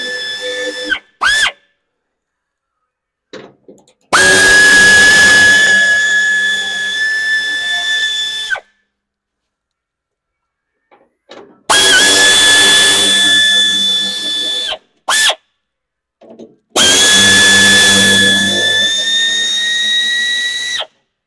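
Power tool driving out the radiator support bolts on a 1957 Chevy Sedan Delivery: three loud, sustained whirring bursts with a steady high whine, separated by short clicks and quiet gaps, close up with no talk.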